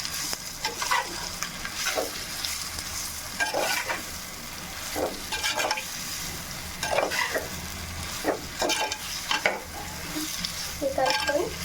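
Salted cucumber pieces are stirred in a hot pan, with repeated scraping strokes of a spoon over a steady low sizzle, close and clear with no talking.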